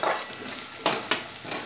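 Chopped onion and green chili fry in a pan for kanda poha, a steady close sizzle broken by two distinct spoon scrapes against the pan.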